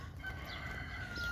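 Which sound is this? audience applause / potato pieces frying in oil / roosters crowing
roosters crowing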